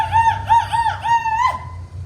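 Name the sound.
Native American men's war whoop call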